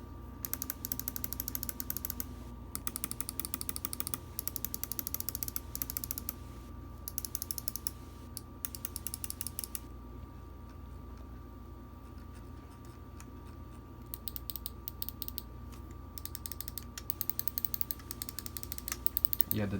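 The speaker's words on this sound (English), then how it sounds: "let me give you guys a sound test on the clicking." Rapid clicking from the buttons of a Glorious Model O gaming mouse, sharp crisp clicks repeated in quick bursts close up, with short quiet gaps between the runs of clicks.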